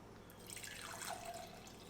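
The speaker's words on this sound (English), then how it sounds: "all you're going to do is pour in some basic white vinegar" White vinegar pours into a container holding carbon steel knife blades, a thin trickling splash that builds and then settles into a lighter stream over about two seconds, close and fairly quiet.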